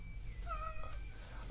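A cat gives a single short, strained meow at moderate distance, a thin wavering cry with no talking over it in a quiet room.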